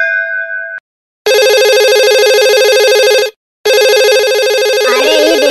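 A telephone ringtone plays loud and close as a call is placed. A short tone is followed by two long, steady electronic rings with a brief gap between them.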